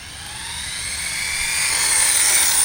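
An Arrma Typhon 6S RC car running on a 3S battery gives a high whining motor buzz that rises steadily in pitch and loudness as it speeds up, heard alone and fairly close.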